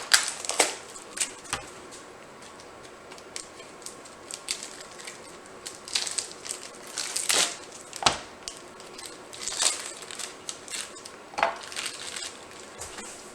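A knife slices through chorizo on a board in quick, irregular crisp cuts and taps, some sharper clicks standing out, close and fairly loud with no talk.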